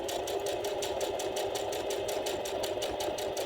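Sewing machine stitching a messenger bag seam, running steadily with a fast, even mechanical whir and rapid rhythmic clatter, close and continuous with no talking.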